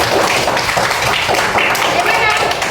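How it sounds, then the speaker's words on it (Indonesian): Classroom applause during a lesson: a steady wash of many hands clapping at once, loud and continuous for the whole stretch, with no talk over it. "Tepuk tangan untuk dia."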